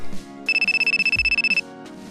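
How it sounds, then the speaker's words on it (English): A phone ringtone plays a steady repeating electronic trill for about a second, loud and close, with quiet room sounds before and after. "my phone out of nowhere started ringing."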